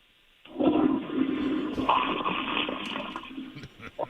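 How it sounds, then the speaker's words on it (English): A stall toilet test flush, recorded with the phone held close: a sudden loud rushing whoosh of water that swirls and drains steadily for several seconds, with no voices. "Do you want us to do a test flush?"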